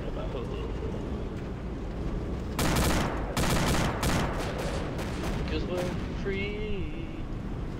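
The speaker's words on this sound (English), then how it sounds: "Start that suppressing, whoever's on the gun." Rapid, loud bursts of machine gun suppressing fire in a military combat game, rattling over a constant engine drone, with a voice talking partway through.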